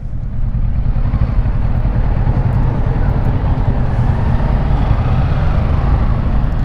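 A Kawasaki Versys 650 motorcycle is being ridden, giving a loud, steady low engine drone mixed with wind rush and no clear breaks throughout.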